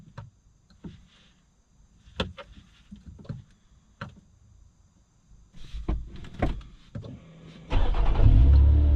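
A V6 sports car engine with a manual gearbox cranks and fires up near the end, settling into a loud, deep idle after several clicks and mechanical clunks inside the cabin.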